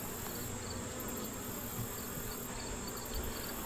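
Honeybees buzz around an opened hive during an inspection for a mite treatment, a faint, steady swarm drone that holds without a break.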